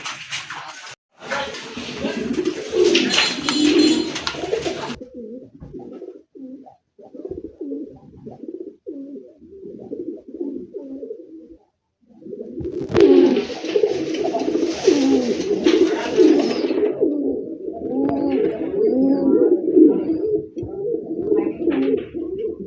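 Pigeons coo in low, throaty, repeated calls at a pigeon farm, close and fairly loud, with bursts of wing flutter and rustling in the pens breaking in twice.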